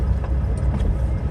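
Highway traffic rumbles past a truck cab on the road, a steady low roar of engines and tires with faint passing swells, continuous and moderately loud.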